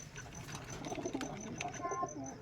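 Local Rajshahi Giribaz pigeons, including a white male, coo softly in a loft amid faint background chatter and scattered soft noises.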